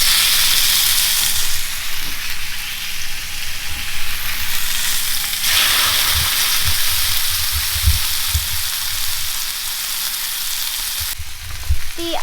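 Venison loin searing in a very hot pan, a steady dense sizzle and hiss that runs throughout with small bursts of spatter and crackle, loud and close, no talking.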